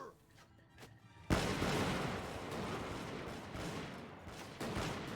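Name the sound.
musket volley fired by soldiers in Bannerlord video game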